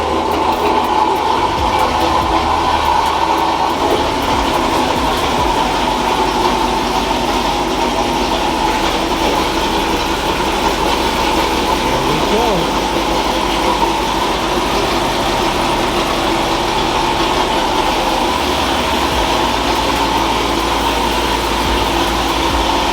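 A car engine running with a steady low rumbling drone and constant broadband noise throughout, loud and close, without any clear separate cranking burst, and no talking.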